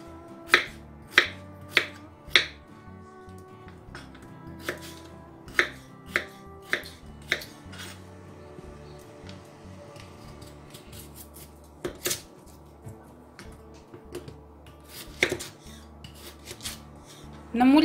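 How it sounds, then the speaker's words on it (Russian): A knife cuts potatoes into cubes on a board, sharp chopping taps in quick clusters then sparser single strokes, close and alone without talk. "Картофель нарезаю кубиком."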